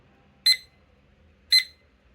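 Two short bright electronic beeps from a digital study timer's alarm, evenly spaced about a second apart, loud and clear over a quiet background.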